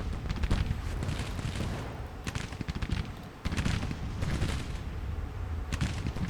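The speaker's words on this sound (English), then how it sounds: "Just keep shooting them." Musket volleys crackle continuously in the video game Grand Tactician: The Civil War, with dense overlapping shots and distant booms forming a loud, sustained battle din.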